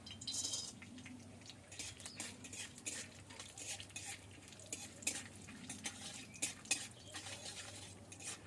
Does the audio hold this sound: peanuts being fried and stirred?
yes